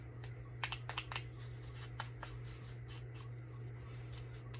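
The edges of a fussy-cut paper piece are distressed with quick, soft scraping strokes that come in short bursts over a steady low hum, faint and close, with no talking.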